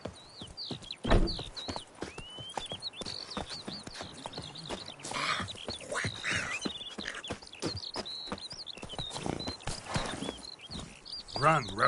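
Hooves of Roach, the horse in The Witcher 3, clopping in a quick galloping rhythm, mixed with game music and effects and occasional sharp thuds, with a voice speaking over parts of it.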